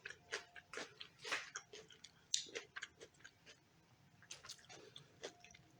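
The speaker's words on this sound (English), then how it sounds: "Sorry if you hear crunching in the background." Quiet, irregular crunching of raw carrots being chewed, with sharp crackly bites scattered throughout and no talking.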